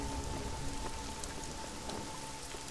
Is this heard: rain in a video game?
yes